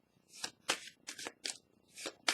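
A tarot card slapped down onto a table during a reading, heard as several short crisp papery snaps and rustles spaced unevenly and close up, with no talking.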